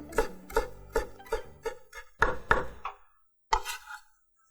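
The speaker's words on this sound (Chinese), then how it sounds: "那我们把这些料都切碎之后" Knife chopping garlic and chili on a cutting board for an avocado shrimp salad: about eight sharp, evenly paced close thuds, a short pause, then one final chop, with no talking.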